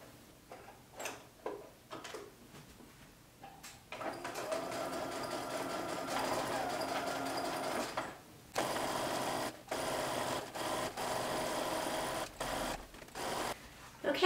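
A sewing machine stitches pom-pom trim onto a pair of shorts, starting with a few short bursts and then running in long steady runs broken by brief pauses, close and clear with no talking.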